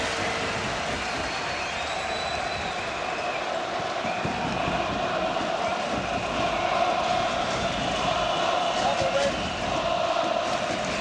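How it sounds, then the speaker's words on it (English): Stadium crowd of Dutch fans at a Euro 96 football match against Switzerland, a steady dense roar filling the whole stretch as the national anthem ends, with a commentator speaking over it. "roars from around the crowd as they finish their national anthem"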